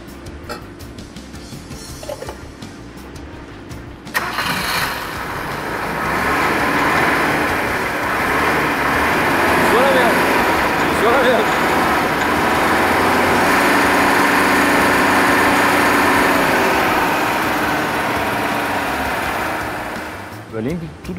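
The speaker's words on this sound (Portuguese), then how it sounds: "daqui a gente vai poder observar ele agora sendo consumido por um motor a combustão" A combustion engine runs steadily on gasoline refined from pyrolysis of urban waste at a treatment plant, a loud, high, buzzing drone like a small engine that rises after a few seconds and holds for most of the time.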